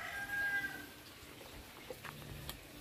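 Chickens in a rural yard cluck faintly at a distance, with a brief crow amid a busy outdoor background and no talk.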